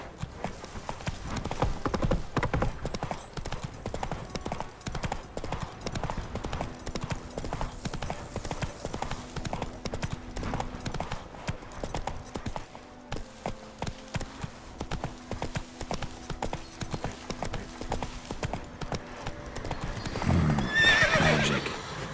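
Roach, the horse in The Witcher 3, gallops with a steady, close rhythm of hoofbeats for the whole stretch, and a louder whinny bursts out near the end.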